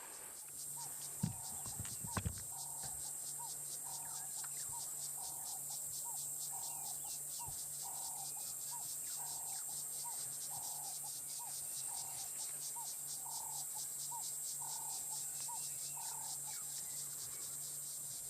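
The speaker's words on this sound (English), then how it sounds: "let's take a moment to just appreciate the sounds of the cicadas." A steady, shrill cicada drone fills the air throughout, with soft cooing turtle dove calls repeating rhythmically underneath and a couple of brief knocks near the start.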